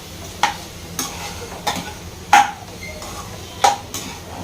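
Potatoes being stirred in a hot frying pan with a spoon, giving regular scraping clinks against the metal roughly every half second over a steady soft sizzle.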